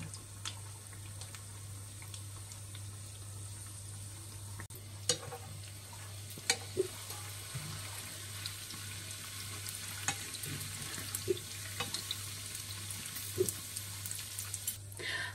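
Pirozhki filled with green onion and egg fry in sunflower oil, giving a soft, steady sizzle under a low hum, with a few scattered clicks and taps as the pastries are turned.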